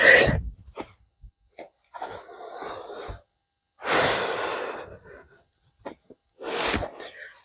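Forceful breathy exhales during a home cardio workout come in four separate bursts, each a rough whoosh of breath with short quiet gaps between them and no talking.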